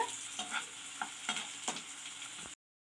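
A stuffed wheat roll coated in sesame seeds fries in a pan, with a steady sizzle broken by several soft scraping knocks as it is turned, close and alone, ending abruptly.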